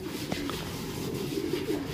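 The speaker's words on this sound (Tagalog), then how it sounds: "Ayun mga ibon niya mga kalapatids." Pigeons cooing softly and repeatedly, close by, with a low murmuring rhythm and faint background noise.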